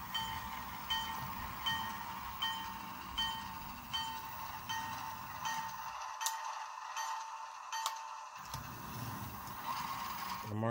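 Model railway piggyback cars coupled onto a train on a layout, with small repeated metallic clicks and ratcheting taps at a steady rhythm over a faint mechanical hum, fairly quiet and close.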